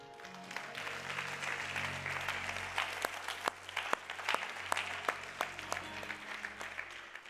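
A church congregation claps and cheers together in sustained applause, with dense overlapping hand claps and several sharper claps standing out, loud and continuous throughout.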